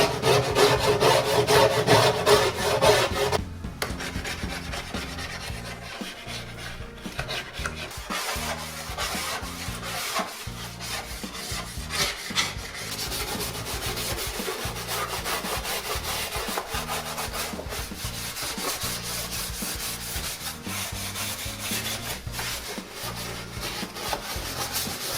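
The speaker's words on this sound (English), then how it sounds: "all you do is you run the scraper along all the surfaces, and you can hear when it's catching something" A metal scraper rasps steadily along grimy oven surfaces, a continuous close-up scratching and rubbing with a louder burst at the start, then even strokes without talk.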